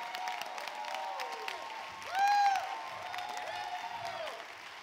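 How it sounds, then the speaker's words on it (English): At a motivational keynote, a crowd keeps clapping while whoops and cheers rise over the steady applause, peaking briefly in a loud shout midway. "Come on, keep on clapping like it's a possibility."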